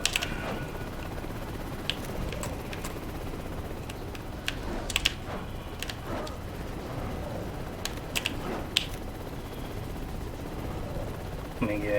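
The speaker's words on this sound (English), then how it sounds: "I just need to get rid of the helicopter." A helicopter in the video game Prototype whirs steadily in the background beneath scattered sharp clicks and gunfire-like cracks, with a voice talking over the game sound.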